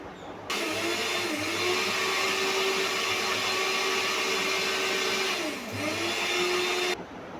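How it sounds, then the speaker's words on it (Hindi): Electric kitchen grinder runs steadily, blending chillies into a paste for Szechuan chutney; a loud continuous whirring motor drone with a brief dip in pitch near the end before stopping. "ये सारी मिर्चें ऐसे पेस्ट इसकी बना ली है ग्राइंडर में डाल के"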